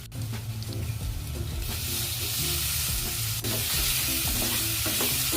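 Tomato being stirred into ginger garlic paste frying in a pan for chicken masala, a steady close sizzle broken by repeated scraping stirs, with no voices.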